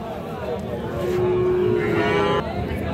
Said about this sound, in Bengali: এই পাশে দেখতেছি বাছুর।